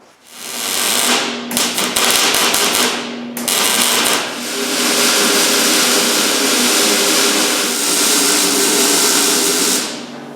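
Welding on the chassis of a Beatnik Bandit clone car, with loud, steady buzzing and crackling arc noise broken by a few short pauses and sharp starts and stops.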